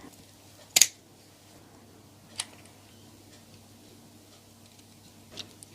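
Scissors snip lace trim to size for a handmade Christmas ornament, with one sharp close cut followed by two fainter clicks spaced seconds apart over a low steady hum, no talking.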